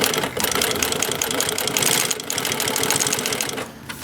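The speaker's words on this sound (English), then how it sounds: "we're going to demonstrate the machine right now. It's a walking foot machine." An Atlas AT4420 heavy-duty double-needle walking-foot lock stitch sewing machine with a servo motor stitches, a close, loud, fast rhythmic clatter running continuously with slight speed changes.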